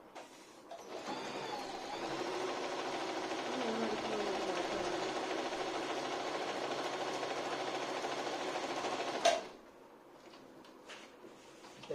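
A Singer 8280 sewing machine runs steadily for about eight seconds, sewing a zigzag stitch with a fast, even mechanical whir, then stops abruptly with a click. No one speaks.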